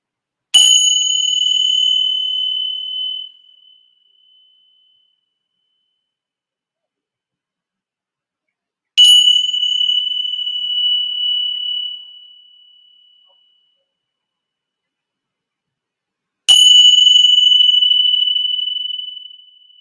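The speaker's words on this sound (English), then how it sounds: "So I'm going to ring my meditation bell 3 times." A meditation bell rings three times, each strike a clear, bright ding that rings on and fades slowly into silence before the next one, evenly spaced.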